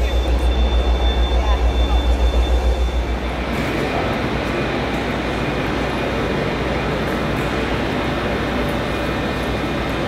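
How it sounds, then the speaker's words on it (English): GWR Night Riviera sleeper train pulling into London Paddington Station, a continuous close rail rumble and low engine drone, heavier at first, then settling into steady rolling noise. "As my train pulls into Paddington Station"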